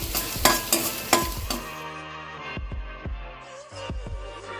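Chopped ginger and green chillies sautéing in hot oil while a spatula stirs them: sharp scraping clatters at the start, then a steady sizzle with occasional stirring knocks, close and fairly loud, no talking.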